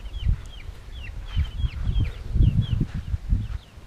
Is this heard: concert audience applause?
no